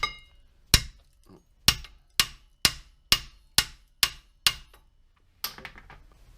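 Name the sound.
hammering rusted seized caliper bracket on 2011 Subaru Impreza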